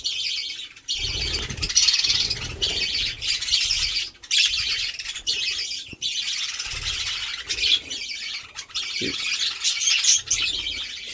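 Many birds chirp and squawk at once in a busy, continuous chorus, with a few louder calls standing out and a low rumble beneath.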